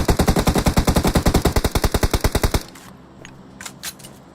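Automatic gunfire from the PUBG Mobile battle game: a rapid, evenly spaced burst of about twenty loud shots, then a quieter stretch with a few scattered faint clicks and thuds.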